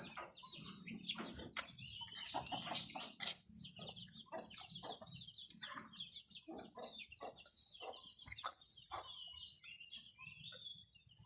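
Chickens on a farm cluck and squawk in a busy, overlapping chorus at morning feeding time, close and steady throughout with sharp bursts early on.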